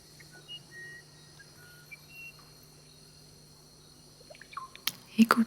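In a relaxation soundscape, a bird's song emerges late and grows louder with sharp chirps, over faint steady insect-like whistling and quiet background.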